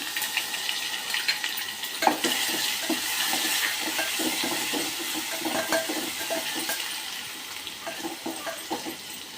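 Curry leaves and garlic sizzling in hot tempering oil for Maharashtrian varan, a crackling spatter with irregular pops and clinks of a spoon against the pan, fading slightly toward the end.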